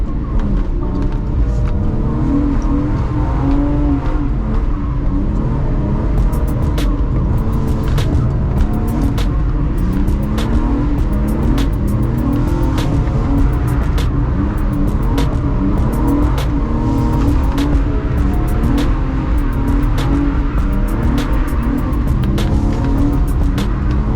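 A drift car's engine roars continuously on a track during a first lap, revving up and down through gear changes with occasional tire noise, loud and close.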